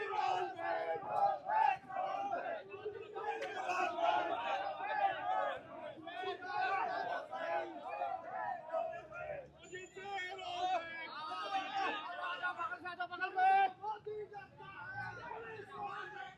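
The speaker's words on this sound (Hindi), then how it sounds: "आप ये गुस्सा और ये आक्रोश देख सकते हैं लोगों के कि सड़कों पर इस तरीके से भीड़ लगी हुई है" An angry crowd of protesters gathered on the streets shouts and chants together in a dense, continuous roar of many voices, loud and close throughout.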